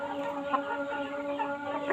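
Shamo chickens, an ornamental breeding stock descended from imported birds, cluck softly and steadily at close range, with a few slightly louder clucks and no talking.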